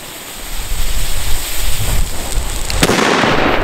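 A Funke Funkenschlag 3 P1 firecracker with 5 grams of explosive goes off outdoors in a single sharp, loud bang near the end, after a few seconds of gusty wind rumble.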